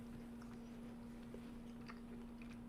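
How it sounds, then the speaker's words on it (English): Faint, close crunching and chewing of crunchy food right near a microphone, a few soft irregular bites over a steady low hum. "Sorry if you can hear the crunching"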